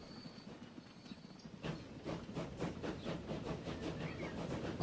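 A passenger train in the Transport Fever video game rolls past, its wheels making a steady rhythmic clickety-clack over the rails that starts partway through and keeps going at moderate volume.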